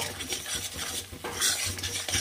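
Spice masala with salt, sugar and Kashmiri chilli powder being stirred and sautéed in oil for a Bengali rohu fish curry, a soft continuous sizzle with scraping of a spoon against the pan, fairly quiet and close.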